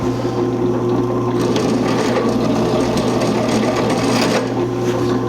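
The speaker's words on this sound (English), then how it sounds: "we'll put a nice little bevel on the edges of the holes" A drill bit bevels the edges of drilled holes in a 1984 Jeep CJ7 frame, giving a steady, close grinding whir with a high metallic edge that swells briefly in places, with no talking.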